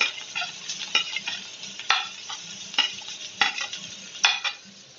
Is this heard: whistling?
no